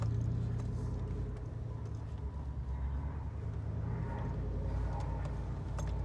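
Steady interior rumble of a Chevy SSR convertible truck cruising smoothly on the highway, a low even drone with faint road noise and no voices.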